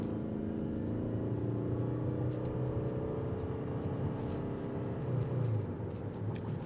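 A Toyota Crown Limited sedan with a turbo 2.4 engine pulls away under acceleration, its engine note rising steadily as a smooth hum heard from inside the cabin, with no talking.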